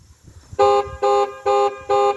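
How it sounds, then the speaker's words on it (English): Car horn honked in bursts on a family farm: four loud, steady blasts of roughly half a second each, evenly spaced, after a brief stretch of quiet background. "you blow the horn and he goes around the house"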